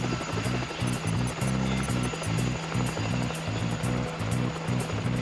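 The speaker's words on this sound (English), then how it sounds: "orders the launch of another Black Hawk helicopter" Loud, close Black Hawk helicopter with a steady, rapid rotor thump and a whining engine, continuous throughout with no speech.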